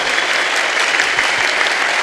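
Audience applause fills a church, a steady dense wash of many hands clapping at once with no pauses, loud and close throughout.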